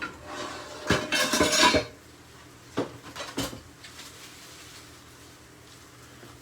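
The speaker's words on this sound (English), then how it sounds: "I'm going to start frying these onions and peppers now." Onions and peppers tipped into a hot pan for frying, heard as a clatter of utensils and pan scraping, a loud burst early on and a few sharper knocks later, under faint kitchen background.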